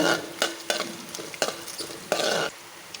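Small chopped coconut pieces frying in hot oil, with bursts of sizzling and scraping stirs recurring every half second or so, close and fairly loud with no voices.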